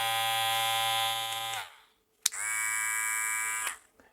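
A Kemei M11 electric hair clipper hums with a steady bright buzz, runs for about a second and a half, is switched off, then starts again and runs another second before stopping, close up with no talking.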